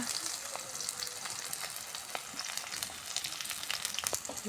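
Chopped onion frying in mustard oil with bay leaf and cinnamon, a soft, crackling sizzle with scattered pops and light stirring scrapes, fairly quiet and close.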